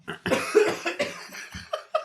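Someone coughs hard after Sprite went up their nose, giving a close, loud run of about seven rough bursts in quick succession.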